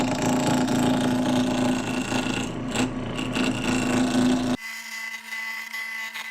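A wooden duck call barrel spins on a lathe while a carbide cutter roughs it down, giving a steady loud rasping, scraping drone with a low motor hum. The cutting stops abruptly near the end, leaving only the machine's hum.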